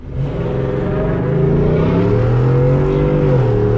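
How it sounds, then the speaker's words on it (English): A Ford F150 FlexFuel pickup running on E85, in four-wheel drive, launches hard: a loud, steady engine roar climbs in pitch as it accelerates, with no talking. "I wanna get a launch for you guys so you can see how hard it actually launches"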